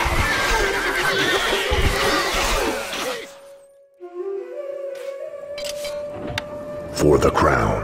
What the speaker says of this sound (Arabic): خيولنا جاهزة. الحصان سريع.